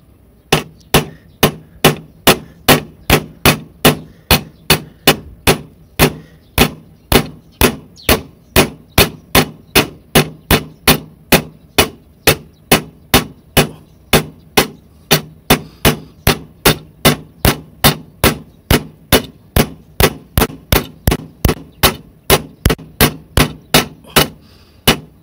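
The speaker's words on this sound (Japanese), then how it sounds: "じゃあ金槌でね合わせていきますね。" A hammer repeatedly striking a rain gutter made from empty metal cans, dozens of sharp metallic knocks in a steady rhythm for the whole stretch, loud and close with no talking.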